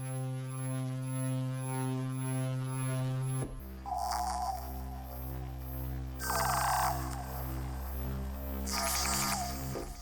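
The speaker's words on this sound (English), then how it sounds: "So you can just play distorted hum on its own." Sci-fi distorted hum effect from an ambient War of the Worlds FX pack: a steady, loud low drone with buzzing harmonics that shifts character partway through, overlaid by three bursts of bright crackling interference.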